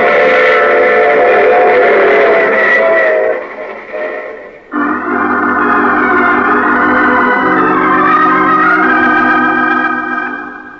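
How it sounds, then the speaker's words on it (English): A steam train effect from an old radio drama, with a loud, sustained multi-tone whistle over rumbling rails that cuts out briefly and then returns with a deeper chord and steady rolling rumble. "I take this same train every week at this same time."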